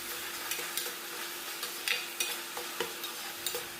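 Onion paste with crystal salt fries in a pan over a medium flame for a Godavari-style fish curry, a steady soft sizzle with small pops and occasional stirring scrapes, close and without talk.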